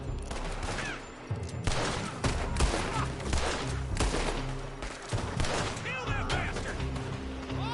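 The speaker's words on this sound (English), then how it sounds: "They're shooting from that building!" Gunfire pours from a building in the game Red Dead Redemption II as a loud, near fusillade of repeated shots and cracks runs throughout, with a voice and other game sounds mixed in.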